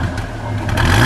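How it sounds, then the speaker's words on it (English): A 1953 Nash Healey Roadster convertible's engine is revved once, close by. The engine note swells and rises into a stronger, louder burst toward the end, and no one speaks over it. "Go ahead, give it a rev."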